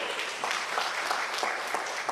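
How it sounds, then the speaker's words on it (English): An audience gives a round of applause at a union gathering, a dense, even wash of clapping that fills the whole short stretch at moderate loudness with no voices. "Let us give them a round of applause."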